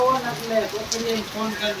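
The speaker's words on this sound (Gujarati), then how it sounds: "અને વરસાદ અત્યારે ચાલુ થઈ ગયો." Rain falling at a family home in rural Gujarat, a steady soft patter spread across the whole stretch, with a voice talking over it throughout.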